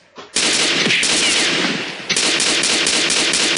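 Automatic gunfire in the video game Madness, two long rapid bursts of loud, dense shots, the second starting abruptly after a brief dip, with no talking.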